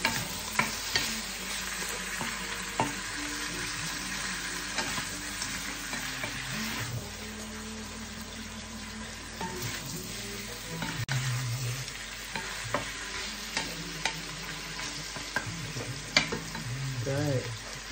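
Shrimp frying and stirred in a pan, a steady broadband sizzle lasting throughout, punctuated by repeated spatula scrapes and clicks against the pan, close and moderately loud, with no voices.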